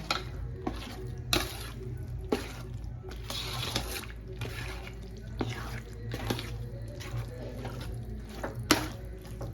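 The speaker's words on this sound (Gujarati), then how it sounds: "આ રીતે સતત આપણે હલાવવાનું ચાલુ જ રાખવાનું છે એમ." Salampak, a Surat sweet cooked with ghee, is stirred continuously in a pan, giving soft, steady scraping and gentle sizzling strokes close by.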